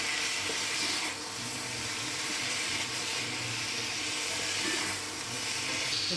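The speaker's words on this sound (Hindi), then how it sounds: "1 चम्मच गोल मिर्च, ज़ीरा पाउडर चमची से, छोटी चमची से इसके साथ इसको भूनेंगे थोड़ी देर।" Black pepper and cumin powder roasting in a pan for aloo gobhi, a steady broadband hiss with soft sizzle and faint scraping, continuous and fairly close for the whole stretch.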